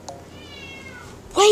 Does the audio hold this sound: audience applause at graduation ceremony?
no